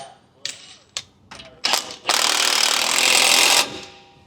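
An Allen key works a bolt on a coil-over-leaf suspension kit fitted to a Super Duty truck, a few sharp metallic clicks and knocks followed by a longer grinding ratchet-like rasp, close and loud.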